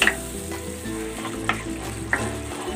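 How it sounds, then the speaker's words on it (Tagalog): Water bubbles and sizzles steadily in a pan with oyster sauce, with a few soft clicks and taps breaking through the continuous hiss. "Ayan, kumukulo na."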